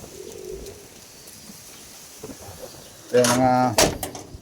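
Live pigeons of a bred racing line give a brief burst of close, loud cooing near the end, after a few seconds of quiet room noise with a short spoken word.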